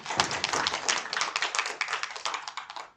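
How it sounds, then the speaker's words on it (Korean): A Korean Sunday morning church congregation claps in a quick, sharp burst of individual claps, fairly close and distinct, lasting a few seconds with no talking. "우리 함께 박수 영광 돌립니다."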